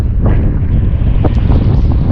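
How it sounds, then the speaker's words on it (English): Wind buffets across an exposed, tree-lined mountain ridge on Mount Kakuda in Niigata, Japan, a steady loud rumble with gusting swells that fills the whole stretch, without any talk. "it gets windy up here on the ridge"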